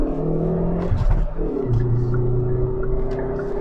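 A 202 kW Hyundai i30N accelerating hard in second gear, a loud close engine drone that rises steadily in pitch after a brief dip, heard from inside the car with no talk.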